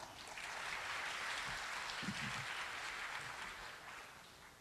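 Conference audience at a security event opening ceremony applauding a Korea University professor, a dense, even wash of many hands clapping at a distance in a large hall, steady throughout before fading slightly at the end.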